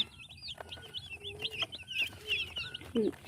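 Broiler chicks peep in quick, high chirps, several birds calling close by in overlapping bursts over faint farm background.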